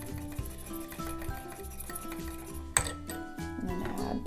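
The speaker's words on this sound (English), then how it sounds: "then we'll give it a whisk to incorporate" A whisk clinks and taps against a bowl while guar gum is mixed into an apple cider vinegar hair rinse, with a sharp clatter near the middle and steady music playing underneath.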